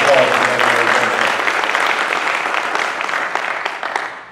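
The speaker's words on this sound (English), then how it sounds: "Let's give the pastor a round of applause." Audience in a church hosting a community town hall forum breaks into applause, a dense wash of clapping that starts loud and slowly thins over a few seconds, with a brief voice at the start.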